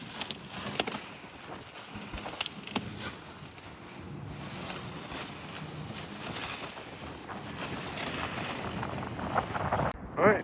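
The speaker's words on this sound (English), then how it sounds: "the wind is awful today" Gusty wind buffets a microphone outdoors, producing a constant rough roar with uneven surges and a few sharper bursts, loudest toward the end.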